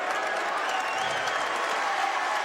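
Basketball crowd at a college game between Harvard and Saint Joseph's applauding and cheering after a play, a dense, loud, continuous wash of clapping and shouts from a big arena audience, steady throughout.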